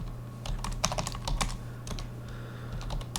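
Fingers tap on a computer keyboard at close range in quick irregular bursts with short pauses, over a steady low electrical hum, no talking.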